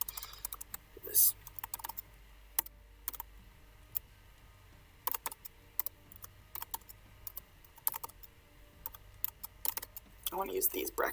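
Quiet clicking keystrokes on a computer keyboard, irregular bursts of taps with pauses between them, with brief speech mixed in.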